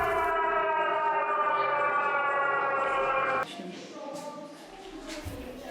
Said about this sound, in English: where we were again greeted by a siren